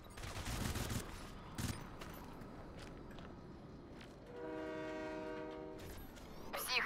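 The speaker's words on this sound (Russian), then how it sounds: "Поезд трогается." In the video game Crysis Warhead, a train begins to move with a sustained horn-like tone rising above low rumbling and scattered sharp bangs, heard at moderate distance in a noisy game soundscape.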